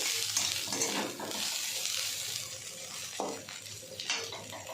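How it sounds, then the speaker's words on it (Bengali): Small morola fish fry in an oily pan, giving a steady loud sizzle with faint stirring scrapes throughout. "এবার ওই মরলা মাছগুলো সব দিয়ে দেবো, দিয়ে একটু ভেজে নামিয়ে দেবো।"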